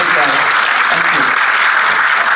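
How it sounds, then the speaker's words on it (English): A conference audience applauds a speaker at a scholar summit, loud dense clapping that fills the hall steadily throughout with a faint murmur of voices beneath. "Please give big applause again to the speaker."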